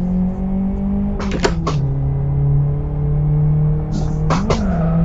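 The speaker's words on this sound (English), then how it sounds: "Sounds like tires just squeaking constantly" Car in the Live For Speed racing video game: a steady engine drone holds under the whole stretch, broken twice by short, sharp bursts of tire squeal, with no talk over it.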